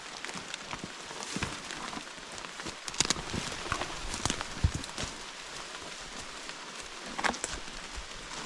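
Rain pours down at a backcountry fly-fishing camp by a river in New Hampshire in fall: a steady, fairly soft hiss broken by sharper drops striking nearby surfaces, with no voices.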